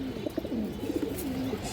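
Chuina pigeons, a white pair, cooing softly in low rolling burbles, a short close call over a quiet background.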